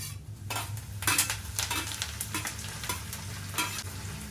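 Cumin, curry leaves and garlic sizzle steadily in hot oil, with loud bursts of crackle and occasional stirring scrapes against the pan, close up and with no voices.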